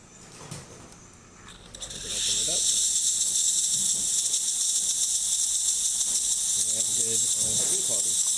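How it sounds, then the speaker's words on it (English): A DeLonghi Magnifica XS coffee machine's steam wand switches on after a brief quiet stretch, then gives a loud, steady hiss that continues to the end, with a few faint low thumps underneath. "Then we are going to turn on the steaming function"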